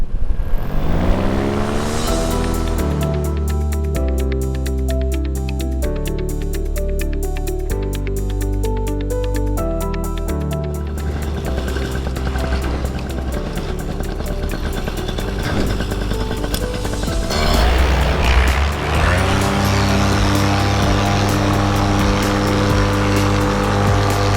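A paramotor engine and propeller drone loudly and continuously in flight, a close, steady buzzing roar with no talking.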